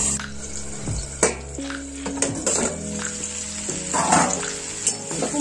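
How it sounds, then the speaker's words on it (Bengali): Pumpkin pieces frying in a pan give a loud, continuous sizzle close by, broken by a few stirring scrapes and clatters of utensils against the pan. "কুমড়োটা ভাজা হয়ে গেছে"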